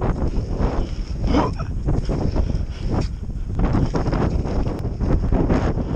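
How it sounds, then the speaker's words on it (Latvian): Strong wind roars outdoors at a pump track, buffeting the microphone with loud, continuous gusts and rough low rumbling that never lets up. "Oh, baigais vējs!"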